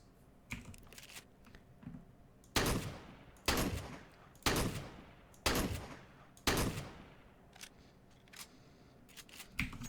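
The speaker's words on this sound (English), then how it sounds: "Those are the new Mag 7 sounds." Mag 7 shotgun being drawn and fired in CS:GO, with light handling clicks up front followed by five loud, evenly spaced blasts, each trailing off in a short decay, plus a few softer mechanical clicks afterward.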